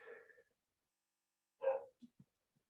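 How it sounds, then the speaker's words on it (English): A dog barks once sharply, then gives a few soft short woofs, distinct against a quiet room with silence between. "that's my dog"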